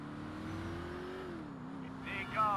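A car engine in the video game GTA 4 hums and climbs in pitch as it accelerates, shifting slightly midway, with a faint squeal near the end.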